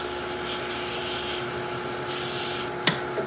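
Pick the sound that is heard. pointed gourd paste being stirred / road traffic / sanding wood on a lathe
sanding wood on a lathe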